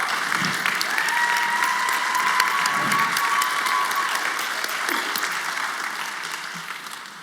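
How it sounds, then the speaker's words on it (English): Audience at a first-generation student celebration applauding, a dense sustained patter of many hands at fairly loud level that gradually tapers toward the end, with a faint tone lingering in the background. "Thank you all for clapping."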